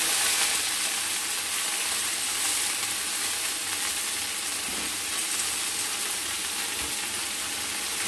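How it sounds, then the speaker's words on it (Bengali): Chopped cabbage frying in a pan with a fish head, a loud continuous sizzle and hiss of hot oil with faint stirring, no voices. "এবার আমরা দিয়ে দেবো কেটে রাখা বাঁধাকপি। দিয়ে দিলাম কেটে রাখা বাঁধাকপি।"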